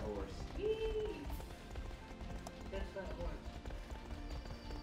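Horse hooves clip-clop in the video game I Love Horses: Rider's Paradise, a steady trotting patter mixed with game music and sound effects.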